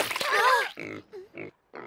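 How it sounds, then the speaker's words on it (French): Cartoon wild boar grunting in a short burst of rough, harmonic snorts, loud and close, followed by a few briefer grunts and squeals with gaps between them. "C'était un cochon sauvage."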